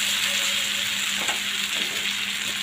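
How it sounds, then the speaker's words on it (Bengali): Raw mango pieces with spices stirred in a hot pan, giving a steady close sizzle with soft scraping from the stirring throughout. "আমি তারপরে বারবার নেড়ে দিচ্ছি যাতে নিচে দিয়ে না লেগে যায়"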